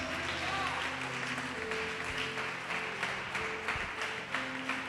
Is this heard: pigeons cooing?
no